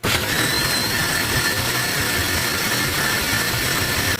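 A mixer grinder whirs steadily and loudly for about four seconds, blending ingredients for a raw plantain and cucumber pulissery.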